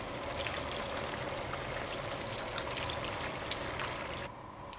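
Mussel cooking water or fish broth poured into a pan for seafood fideuá, a steady close watery rush throughout that drops away near the end.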